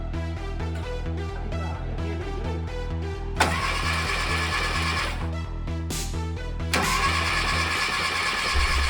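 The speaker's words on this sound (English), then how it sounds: "So we started the engine, everything seems fine, the oil pressure is there" A VW T3 Vanagon WBX engine, converted from 1.9 to 2.1 litres and run with no exhaust fitted, fires up about a third of the way in. It runs loud and raw, with a sharper surge near the end, while background music plays underneath.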